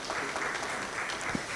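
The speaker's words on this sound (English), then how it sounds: "Everybody can give her a round of applause." Audience at a regional climate forum applauding a board member, a brief, steady wash of clapping from a seated crowd, moderately soft and a little distant.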